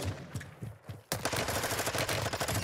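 Automatic gunfire in the video game Warzone 2, with scattered shots at first, then a sudden dense, continuous burst of rapid fire close up.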